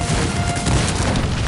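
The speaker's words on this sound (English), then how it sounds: "Fire the cannons, and in 3, 2, 1, give them hell." Cannons fire in the Cossacks 3 strategy game during a battle, heavy booming blasts rolling into a dense, continuous roar of loud cannon and battlefield noise with no clear gaps.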